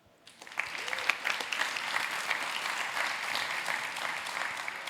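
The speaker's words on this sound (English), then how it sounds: "Applause." Audience at a PyData Amsterdam talk on LLM security breaks into applause, starting abruptly and holding a dense, even clapping texture for several seconds with faint crowd murmur beneath.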